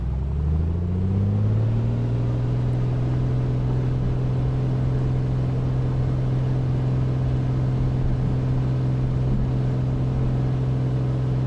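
A Piper Comanche 250 in Microsoft Flight Simulator roars at full throttle, its engine drone rising in pitch during the first two seconds and then holding a loud, steady, even tone with no voices over it.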